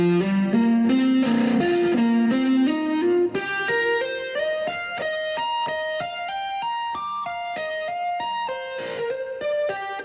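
A slow, articulate electric guitar lick of many single notes climbing and weaving, with a slightly driven tone and no voices.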